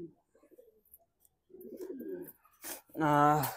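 A khaki pigeon coos softly in short murmuring phrases, followed by a louder, rounded coo near the end, close by in a quiet setting.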